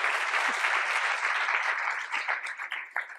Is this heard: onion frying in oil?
no